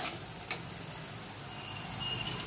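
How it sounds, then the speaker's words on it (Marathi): Chicken pieces frying in hot tempering in a mud pot for Kolhapuri chicken, giving a steady low sizzle with faint crackles and one brief clink, with no talk. "चिकन ह्यावर फोडणी देऊन"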